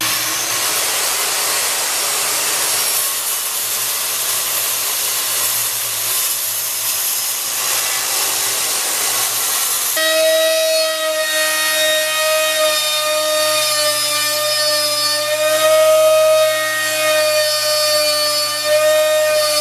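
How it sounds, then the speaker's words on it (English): A router hogging out waste from a tongue cut in wood for a farm table: broadband cutting noise for the first half, then a steady high whine with strong harmonic tones as a power tool runs continuously and loudly, no talk. "And then I'll use a router to just hog out the waste."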